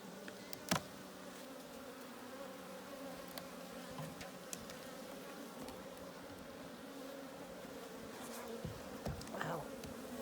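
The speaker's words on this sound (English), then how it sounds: "executive director, Carolyn, keeps bees at her home." A steady, dense buzz of many honeybees at a home beehive fills the air continuously, with occasional single bees droning louder as they pass close by.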